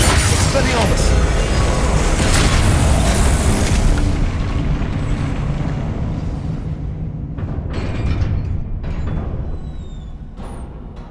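Spell blasts and booming explosions from combat in Hogwarts Legacy roar loudly for the first few seconds, then fade into rumbling and scattered crackles, with voices speaking over the effects.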